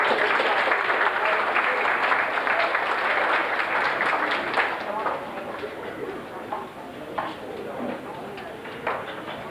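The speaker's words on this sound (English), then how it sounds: "Give these guys a round of applause, please." Crowd applause at a 1992 FFA event, a dense steady clapping that starts loud and full, then thins and tapers over the second half with scattered claps.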